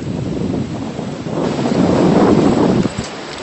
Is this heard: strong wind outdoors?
yes